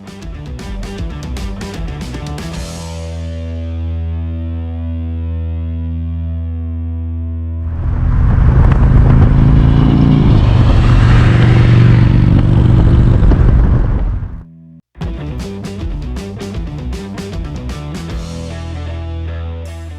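A Harley-Davidson Street Glide Special engine rumbles at steady pitch, then swells into a louder, rougher roar for several seconds, cuts out briefly and returns to a lower tone. Music with a tonal bed plays over the engine the whole time.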